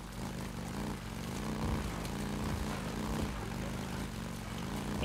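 Helicopter engine in the video game Days Gone, a steady low droning hum with pulsing rotor-like modulation, continuous and fairly loud throughout with no talk.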